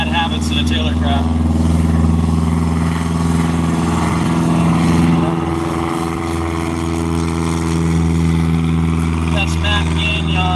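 A stock Piper PA-18 Cub on bush wheels, its piston engine droning steadily and fairly loud throughout, with people talking over it.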